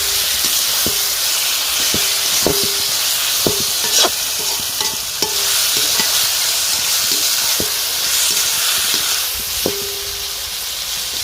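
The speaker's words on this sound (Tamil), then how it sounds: "இப்போ வந்து நம்ம உரிச்சி க்ளீன் பண்ணி வச்சுருக்க நண்டை போட்டுக்கலாம்." Cleaned mud crab frying in a pan with onion and tomato, a steady close sizzle and hiss broken by repeated sharp scrapes and clicks of stirring at an uneven rhythm.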